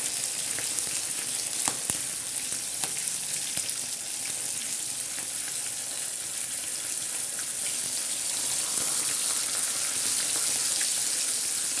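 Bangda mackerel fish frying in hot oil, a steady bright sizzle with faint crackles and pops running throughout, close and continuous with no talking.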